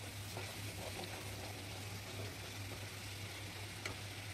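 Spices frying in oil in a pan for Marathi shev bhaji, a steady soft sizzle with a low hum underneath and an occasional faint tick, continuous and moderately close.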